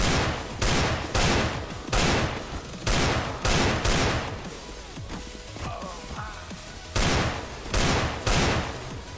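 Gunfire in CS:GO while shooting bots, a rapid series of loud, close sharp shots in clustered bursts with brief gaps between volleys.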